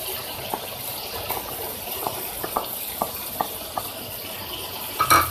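Fried onion, fried okra and chopped tomatoes being stirred together in a pan for chicken bhindi masala, with soft scraping strokes at a steady rhythm over a low sizzle.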